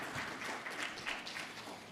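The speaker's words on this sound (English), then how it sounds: "Another round of applause, please." Audience applause at a conference session on oil and gas projects in South Africa, a moderate, continuous patter of clapping from a seated crowd, somewhat distant and fading a little at the close.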